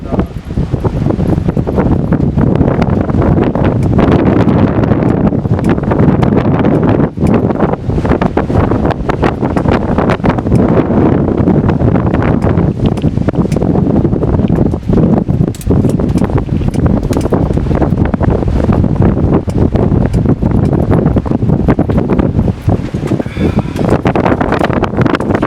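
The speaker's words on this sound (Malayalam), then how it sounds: "ഭയങ്കരമായ കാറ്റാണ് അടിക്കുന്നത്" Strong wind gusting across a hilltop at Nelliyampathy, a loud, continuous roar buffeting the microphone for the whole stretch, with rustling underneath.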